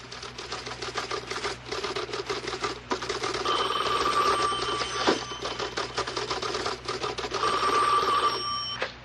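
An old-style telephone bell rings in a comedy radio sketch set in a criminal court office, with bursts of rapid metallic trilling amid busy background clatter resembling typing, fairly loud and close.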